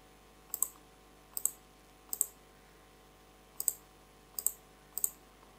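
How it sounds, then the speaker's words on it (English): A computer mouse clicks six times in quick, uneven pairs while windows are selected in Blender, each crisp and close against a quiet room hum with no speech. "So I'm just clicking all the windows,"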